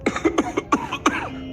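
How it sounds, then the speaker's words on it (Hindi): People lying in bed in a cold house of sacks and straw cough repeatedly, about six short harsh coughs in quick irregular succession, close and fairly loud. "सभी बिस्तर पर पड़े हैं, खांस रहे हैं"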